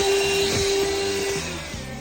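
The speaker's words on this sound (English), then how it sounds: "That's right, I got a vacuum," A vacuum cleaner runs over the dashboard of an SUV someone is living in, a steady loud whooshing drone with a faint whine and light scraping strokes as the nozzle moves.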